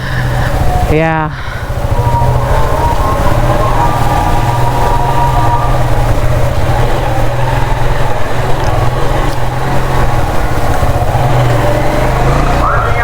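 A car grinds along in first gear on a Cairo street, its engine droning loud and close with a constant labored strain throughout, while a person talks over it and a brief sweeping sound passes near the start.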